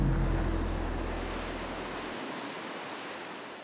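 Big surf at Jaws on Maui, a loud roaring wash of breaking ocean waves with low wind rumble that fades out partway, leaving a softer hiss of water.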